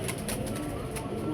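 Pet pigeons kept in a loft coo softly and continuously in a short, close, steady murmur with no other clear sounds.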